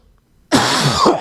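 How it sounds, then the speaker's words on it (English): A single harsh smoker's cough bursts out after a moment of quiet, rough and close. "excuse me, smoker's cough."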